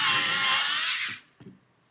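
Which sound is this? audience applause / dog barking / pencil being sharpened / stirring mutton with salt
pencil being sharpened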